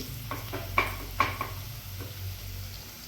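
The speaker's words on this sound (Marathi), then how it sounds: "कांदा चांगला लालसर भाजून घ्यायचा आहे मिरची सुद्धा चांगली भाजून घ्यायची आहे" Onion and green chilies frying in a pan for mutton pickle, a low steady sizzle broken by a few light clinks and scrapes of a spoon stirring against the pan.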